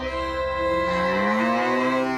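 A cow moos as a sound effect in a radio advert, one long, loud, close bellow that stretches and bends in pitch before trailing off, with no talk over it.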